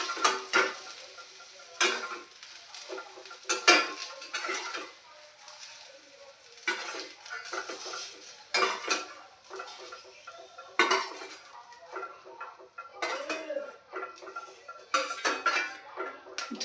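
Fried okra is moved from a pan onto a plate with metal utensils, giving intermittent clinks, taps and scrapes against the cookware. The sounds come in scattered bursts with quiet gaps between them, close by and moderately loud.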